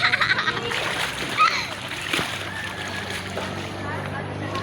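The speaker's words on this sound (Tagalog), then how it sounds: "Naligo sila guys." Children bathe together in water, splashing near and in bursts, while voices talk and call over the sloshing.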